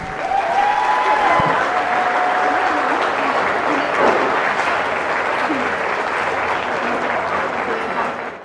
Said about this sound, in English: definitely worth your applause as they leave the ring